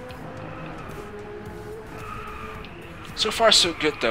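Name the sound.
Ferrari 488 GTB tires skidding while drifting in video game Driveclub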